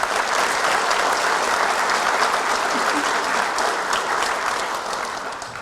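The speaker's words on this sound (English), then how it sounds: "Let's give Terri another round of applause." A full room at an athletic hall of fame induction ceremony breaks into a warm, continuous round of applause, loud and even, gently fading toward the end with a faint crowd murmur.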